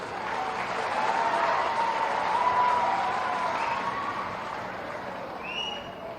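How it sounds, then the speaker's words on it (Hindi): An audience at an honour ceremony for Indian hockey team players in Ghazipur applauds, a broad wash of clapping that swells, holds and slowly fades over several seconds. "ताली तो बनती है"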